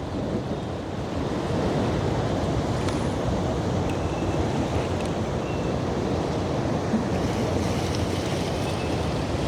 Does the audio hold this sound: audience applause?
no